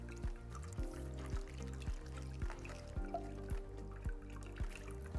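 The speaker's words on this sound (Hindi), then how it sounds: "तो क्विकली इसे छानना है और जितना भी गूदा है उसे यूं मसल कर" Cooled tamarind pulp being strained and mashed by hand, soft wet squelching and trickling in a steady rhythmic pattern of repeated presses, close and fairly quiet with no talking.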